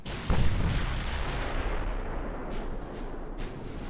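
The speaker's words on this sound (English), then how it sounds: "We're lobbing a nice mix of high explosive and AP at them." Naval gunfire in the Ultimate Admiral: Dreadnoughts warship game, an opening heavy boom with a rolling rumble followed by several fainter, sharper distant shots.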